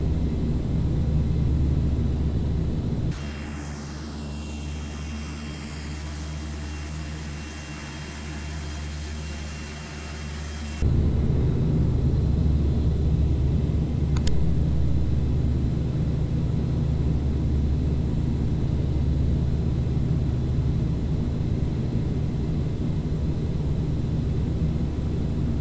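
A Fokker 50 turboprop takes off in the Prepar3D flight simulator, a loud steady engine drone with a tonal propeller hum that shifts as the power changes, with no talking.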